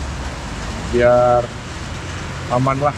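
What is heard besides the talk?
heavy rain during motorcycle touring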